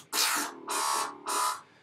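Three bursts of a harsh, buzzy synthesized bass tone made in Massive, evenly spaced and loud, with short gaps of silence between them.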